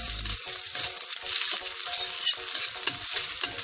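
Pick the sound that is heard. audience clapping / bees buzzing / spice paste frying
spice paste frying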